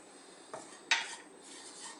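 A utensil stirring oil and all-purpose flour in a pan makes a couple of short metallic clinks and scrapes over a quiet frying hiss, close by and faint, with no voices.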